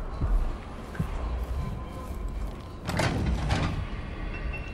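A locked door is rattled in the video game Dishonored 2: two quick bursts of clattering, knocking handle noise come up close over a steady ambient game bed.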